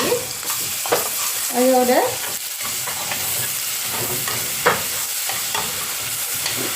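Ginger garlic paste fries in coconut oil in a pan for keema: a dense, even sizzle and hiss with occasional stirring scrapes, close and moderately loud, with a brief spoken word over it.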